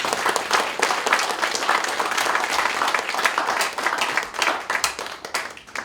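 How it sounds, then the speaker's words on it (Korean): A Korean church congregation claps together during a pastor's installation thanksgiving service, a dense, loud burst of applause that swells and then fades into scattered claps. "우리 하나님께 영광의 박수를 가져드립니다"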